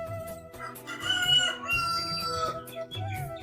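A rooster crows nearby with hens clucking around it, a busy poultry-yard chorus with some background noise.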